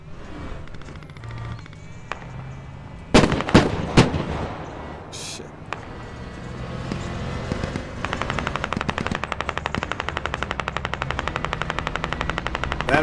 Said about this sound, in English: don't let Sergeant Major hear you shooting like that